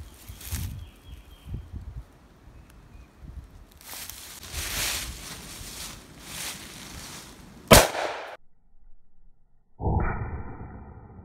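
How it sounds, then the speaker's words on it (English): A sharp gunshot fired at a cantaloupe cracks out once near the middle, standing out above rustling background handling noise, with a short electronic beep sounding afterward. "Now we're gonna shoot a cantaloupe."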